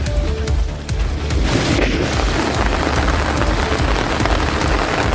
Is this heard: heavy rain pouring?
yes